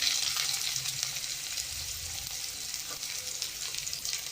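Mustard seeds, cumin and finely chopped onion sizzle steadily in hot oil for kanda poha, a dense continuous frying hiss close up with faint crackle and no talk.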